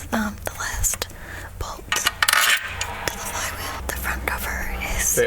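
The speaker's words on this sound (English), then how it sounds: "This is the last bolt to the flywheel." Metallic scraping, clinks and tool taps ring out while the last flywheel bolt goes onto a C6 Corvette clutch assembly, with people whispering close by between the sharp metal sounds.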